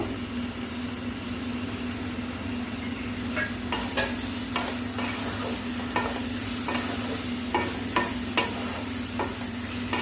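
Snail curry, shamuk chochchori, fries in mustard oil in a pan with a constant sizzle, repeated stirring scrapes and a steady low hum running underneath.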